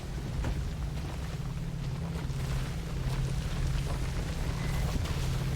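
A storm in the video game Pacific Drive: steady, dense rain and wind noise over a low rumbling drone, continuous and fairly soft throughout.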